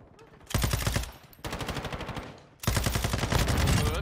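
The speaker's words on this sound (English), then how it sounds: "I'm side strafing, full autoing an LMG, and I hit him in the head 3 times" Long bursts of full-auto light machine gun fire in a first-person shooter, coming in three sustained, loud, rapid strings separated by brief gaps.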